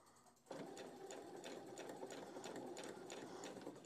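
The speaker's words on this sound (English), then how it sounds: "Forward stitch a few stitches, and then back stitch a few." A sewing machine stitching an accessory bag, starting abruptly and running in a steady, even whirring rattle at close range.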